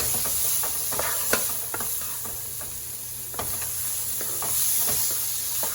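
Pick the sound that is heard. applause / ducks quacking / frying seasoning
frying seasoning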